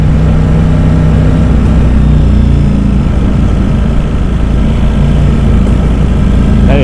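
A Ducati Streetfighter V4S motorcycle engine rumbles steadily at idle for the whole stretch, a deep, loud, continuous drone from an aftermarket exhaust louder than stock, with no breaks.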